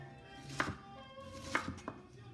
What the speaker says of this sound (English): I'm going to do a little bit of purple cabbage, and I'm slicing it very thin.